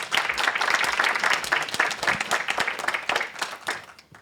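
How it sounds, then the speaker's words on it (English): Sustained applause from an audience at a technology event, dense steady clapping that rises and falls slightly over four seconds before thinning out at the end. "Big applause."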